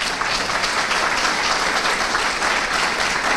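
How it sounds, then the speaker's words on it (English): An audience at a morning show applauds for a fire academy's assistant chief, a dense, steady wash of many hands clapping close and loud throughout, without a break. "she needs a round of applause"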